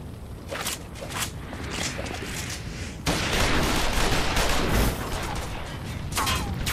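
Gunfire crackles through a video game battle, first in scattered shots, then swelling into a dense, louder volley halfway through over a rumbling background.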